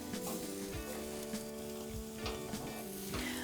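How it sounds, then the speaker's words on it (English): Bread and vegetables sizzling on a grill for a Tuscan bread salad, a soft steady crackle with occasional light scrapes and taps. "we're just gonna start by putting our bread on the grill, get that toasted"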